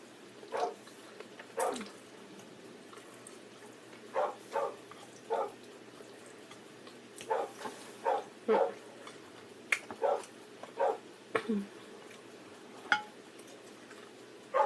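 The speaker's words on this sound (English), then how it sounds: "Puppy." A puppy yips in short, scattered bursts, some in quick pairs, over a quiet room with faint clinks in the background.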